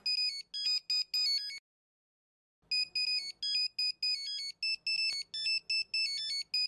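A phone ringtone plays in repeated bright electronic bursts, stops for about a second, then resumes ringing steadily and close by.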